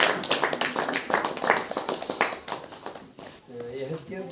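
A church congregation at a Saturday power meeting claps hands in praise, a fast rhythmic stream of loud claps mixed with voices, then a brief pause before singing or speech takes over.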